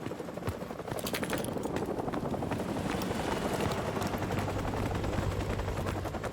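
Helicopter returning in Call of Duty Modern Warfare Remastered, a continuous rotor chop and engine drone holding steady under sporadic in-game gunfire cracks.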